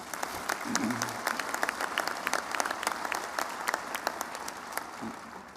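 Audience applause fills a hall at a university presidential inauguration, a steady patter of clapping from a large crowd with a voice speaking faintly underneath near the start and end.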